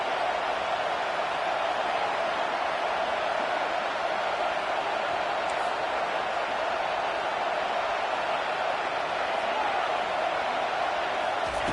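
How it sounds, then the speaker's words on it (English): Steady roar of a big football stadium crowd at a Georgia vs Texas college game, a dense wall of cheering noise that holds loud and unbroken throughout. "This crowd knows they have to bring it in big moments"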